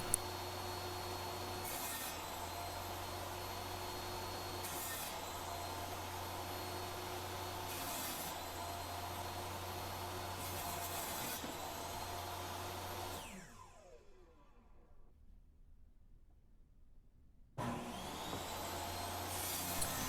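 Wooden grab rail handles are sanded by hand in steady back-and-forth strokes over a constant motor hum. Near the end the rubbing stops briefly and then resumes.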